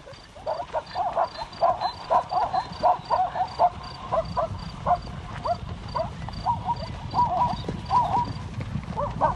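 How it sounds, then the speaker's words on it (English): Zebras on migration run from a hyena clan hunting their foals, with rapid overlapping hoofbeats and brief calls in a busy, rhythmic patter, steady at mid-distance and no voices. "Zebras have returned on their migration, and the clan methodically runs down the foals, not bothering about stealth."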